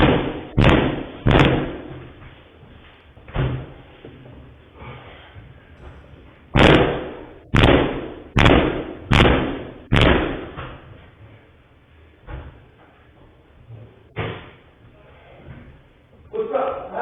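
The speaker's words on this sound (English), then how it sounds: "So he's trying to kick the other door." A studio door takes a series of heavy kicks, booming thuds arriving singly and then in a rapid run of four or five, loud and close, with voices talking between the blows.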